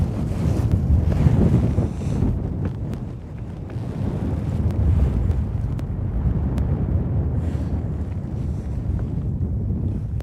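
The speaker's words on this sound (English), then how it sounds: "That is a cold northwest wind." A cold northwest wind blowing outdoors during a bass fishing outing, a loud, steady roar buffeting the microphone, with a faint wash of water beneath and no talk.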